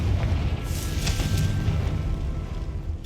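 A Confringo fire-blast spell going off in the Hogwarts Legacy video game, a loud booming explosion with a sustained rumbling low-end roar across the whole stretch.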